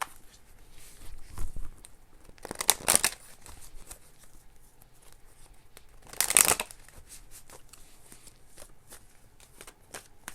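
Oracle cards are shuffled for a reading in two distinct bursts of riffling, each about a second long and fairly close, separated by quiet gaps with faint handling noise and no talk.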